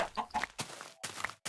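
A chicken in the blocky sandbox game Minecraft clucks in several short, choppy bursts with brief silent gaps between them, close and clear, with no talking.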